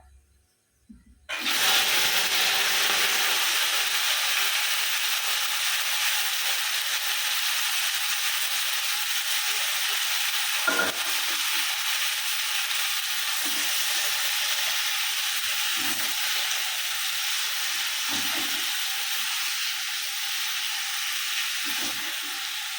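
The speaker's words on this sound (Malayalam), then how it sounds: "ഒന്ന് വഴറ്റിയെടുക്കാം." Okra and other vegetables sizzle steadily in coconut oil in a hot pan for a long stretch, with occasional soft scraping as they are stirred.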